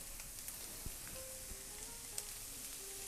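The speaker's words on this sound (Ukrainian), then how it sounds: "перемішуємо це все і вже смажимо до готовності" Steady sizzling of onion and sweet pepper frying in a pan for borscht, a constant hiss with occasional small pops and clinks, close and moderately quiet.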